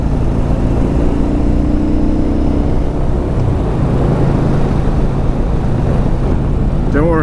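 A Yamaha Bolt motorcycle on a test ride gives off a loud, steady engine drone mixed with wind rush. The sound stays close and continuous, with a slight shift in tone partway through.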